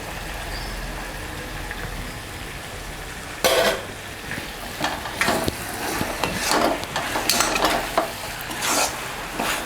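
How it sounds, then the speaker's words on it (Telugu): Ridge gourd curry sprinkled with sesame powder being stirred in a pan: steady sizzling, with scraping and clacking spoon strokes against the pan that come in bursts over the second half, and no talk. "నువ్వుల పొడి మిశ్రమాన్ని దీనిపైన చల్లుకుని అంతా కలిసేటట్టు కలుపుకోవాలి"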